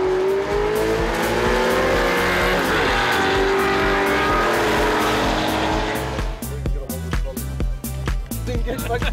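Porsche Carrera 4S racing hard on a wet track, its engine roaring loud and close with revving and shifting tones, tire noise underneath, and a sharper burst of passing cars near the end.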